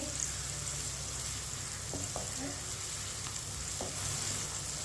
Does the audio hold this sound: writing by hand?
no